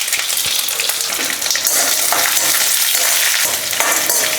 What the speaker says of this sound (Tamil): அடுப்பை வந்து மீடியம் ஃப்ளேம்லேயே வச்சு நல்லா வதக்கி விடுங்க